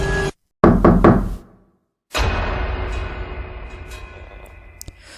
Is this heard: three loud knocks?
yes